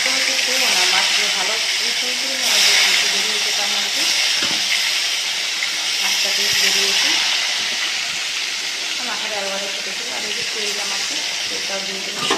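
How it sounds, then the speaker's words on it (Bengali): Fish pieces frying in a pan, a loud, constant hiss of hot oil filling the whole stretch, heard close, with a voice speaking faintly underneath at times. "তখন মাছগুলো ভাজতে দিয়ে দিই।"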